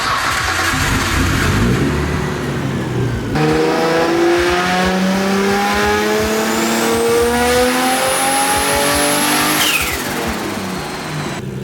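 Nissan Skyline R33 engine on a dyno pull after fresh spark plugs, roaring loudly as it climbs steadily through the revs with a rising whine, then easing off near the end.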